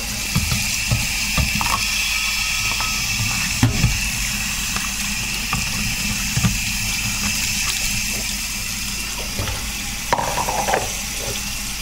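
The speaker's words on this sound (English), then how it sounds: "That's water." Water runs from a tap to wash out a hot chocolate bottle, a steady close hiss with scattered clinks and knocks from the bottle, heard without talk.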